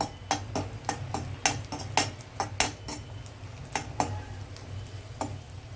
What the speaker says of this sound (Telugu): ఇదిగీ ముక్కలు వేపుతున్నాను ఇప్పుడు